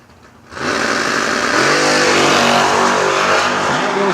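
A Camaro and an S10 pickup launch side by side in a drag race, engines roaring loud and close from a quiet start, with rising harmonic revs through the pass.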